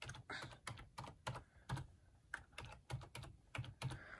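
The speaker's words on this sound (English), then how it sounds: "One hand typing is so hard." One-handed typing on a computer keyboard: close, uneven bursts of key clicks with short pauses between them, and no voices.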